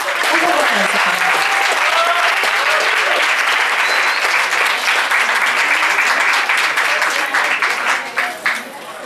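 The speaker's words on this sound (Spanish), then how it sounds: "Un fuerte aplauso." An audience at a regional adult-education meeting breaks into loud, sustained applause that fills the room and then tapers off at the end, with a voice speaking briefly under it.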